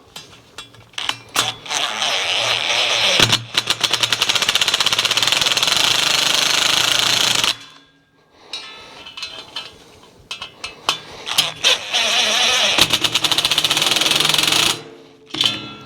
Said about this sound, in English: I had the impact on reverse, not forward. So you just want to tighten up these 2 screws.